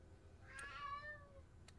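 One drawn-out cat meow in a quiet indoor room, faint and alone, with a rising then falling pitch.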